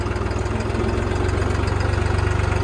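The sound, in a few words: New Holland 3630 4x4 tractor engine running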